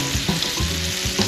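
Steak sizzling on a barbecue grill at a family picnic, a steady close hiss with a few soft knocks and shifts as the meat is moved about.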